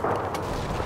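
Gunfire and explosive blasts in the WWII shooter Call of Duty 2, British campaign, forming a dense, continuous battle roar with a sharper crack partway through.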